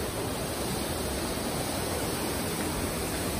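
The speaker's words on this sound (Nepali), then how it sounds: "कहिले पनि सुक्दैन यो झरना चाहिँ" A waterfall that never dries up, near a cave, roars as a steady, dense rush of falling water, loud and close, with no voices over it.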